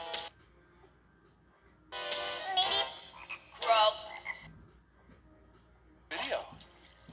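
Frogs croak in a children's animal song from 1993, short bursts of croaking and chirping in three separate episodes with quieter gaps between them, rising clearly above a soft background.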